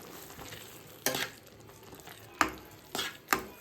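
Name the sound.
frying masala with coriander powder and rock salt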